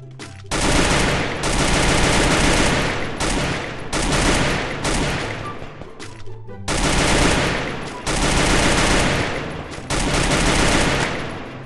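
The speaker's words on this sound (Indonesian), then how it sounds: "Nembak apa sih, Pip?" Bursts of automatic gunfire in the Free Fire battle royale game, several long loud volleys separated by short gaps.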